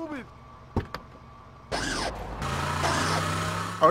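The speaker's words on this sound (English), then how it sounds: "Oh, this hoe sound like it got hydraulics on it." Car hydraulics in the Grand Theft Auto Vice City video game give a whirring mechanical pump sound and hydraulic hiss that start midway and hold steady, after a couple of short knocks, with a voice talking near the start.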